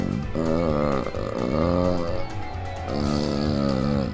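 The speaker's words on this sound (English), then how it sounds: "A man's got a burp." A long, loud, rumbling burp rolls on for several seconds with wavering pitch, then a second burst follows, close to the listener.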